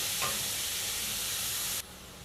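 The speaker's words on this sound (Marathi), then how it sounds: "मग आपल्याला यामध्ये साबुदाणे घालायचे आणि हे थोडंसं परतून घेते तुपामध्ये" Carrots and sago sautéing in ghee for kheer, with steady close sizzling and stirring that continues for most of the clip before cutting off abruptly near the end.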